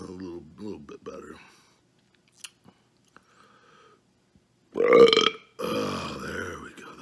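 A man lets out a loud, drawn-out belch after eating a Wendy's Triple Baconator burger, close to the listener. Quiet talk and faint chewing sounds come before it and a murmured follow-up after.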